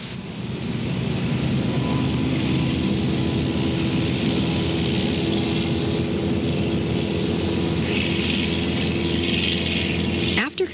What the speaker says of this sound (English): we taxi to the designated runway, take off, and become airborne